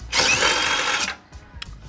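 A power tool spins off a 16 mm body mount bolt on a Jeep Wrangler TJ with a loud, close whirring burst lasting about a second, followed by a few faint clicks and rattles.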